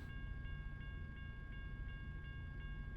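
A train passes in the American Truck Simulator game, a steady rumbling roll with a regular clicking rhythm repeating about every third of a second and a sustained tonal ringing, constant and unbroken.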